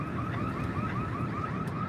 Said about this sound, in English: it's loud enough, that siren